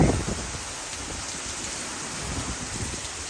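Heavy rain pours in a thunderstorm in St. Charles, Missouri, a dense close hiss of drops with low rumbling gusts, strongest at the start and then steady.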